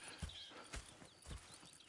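Horse hooves clip-clop in Red Dead Redemption 2, with about four spaced, soft thuds over a faint ambient background, fairly quiet and without talk.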